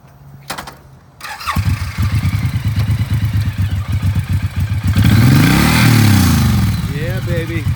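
A used 2017 Suzuki Boulevard M109R big-bore cruiser motorcycle engine cranks and fires after a few clicks, settling into a loud, lumpy idle, then rises in a rev before easing back down.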